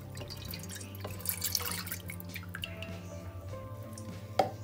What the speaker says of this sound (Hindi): इसमें डाल रही हूँ मैं दूध